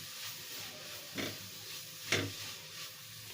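Radish and spinach paratha frying in ghee makes a soft, steady sizzle with a few brief louder crackles or stirring scrapes, close and fairly faint.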